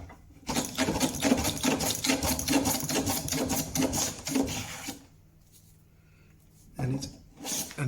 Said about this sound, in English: So let's start planing it down.